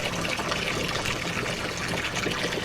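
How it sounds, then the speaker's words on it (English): Water trickles and pours steadily into the gravel beds of a greenhouse aquaponics system, a continuous close splashing and dribbling with no pauses or voices. "It'll take a little while, but they'll slowly fill up with water."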